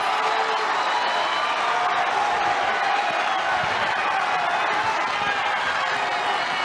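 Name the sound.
Carver-Hawkeye Arena crowd rising and cheering at wrestling match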